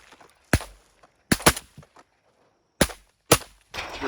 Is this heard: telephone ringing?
no